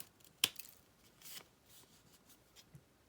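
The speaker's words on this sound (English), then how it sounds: "this I'll just use scissors." Scissors snip through paper while a pocket-tag notebook is trimmed, a few quiet, brief crisp cuts with soft rustling between them.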